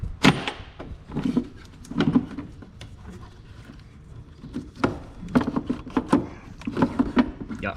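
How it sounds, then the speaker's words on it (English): A car air filter is pulled from the airbox of a Hyundai Santa, giving a run of plastic clacks, scrapes and rustles in uneven clusters, close and moderately loud, with no talking. "Just gonna knock out this air filter real quick."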